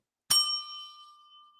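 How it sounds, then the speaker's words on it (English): A single bell struck once on a sports talk show set, giving a sharp, loud ding that rings on with a clear, slowly fading tone, with no talking. "Let's ding that bell"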